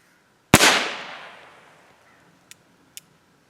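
One sharp, loud shot from a CVA black powder revolver cracks out and booms into a long fading echo, followed by two faint distant pops.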